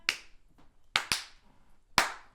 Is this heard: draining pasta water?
no